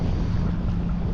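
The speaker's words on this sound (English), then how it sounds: "it's a little windy out here on the dock" Wind buffeting the microphone on a fishing dock at Atlantic Beach, NC in cold winter, a loud continuous low rumble with no speech.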